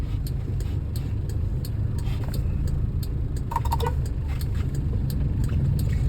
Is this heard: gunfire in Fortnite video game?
no